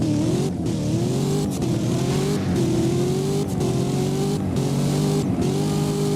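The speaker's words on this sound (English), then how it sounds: "let's actually hear how it sounds when you accelerate" A 2019 Chevrolet Corvette ZR1 in the Roblox game Driving Empire accelerates hard, its loud engine note climbing through repeated gear shifts with brief breaks between pulls, close and continuous, no voices.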